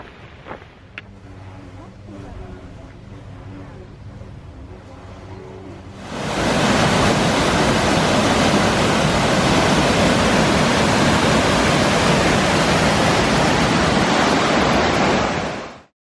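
East Gill Force, a waterfall in Swaledale, roars as a loud, steady broadband rush that cuts in abruptly after a quieter stretch of outdoor ambience and then holds constant until a sudden stop.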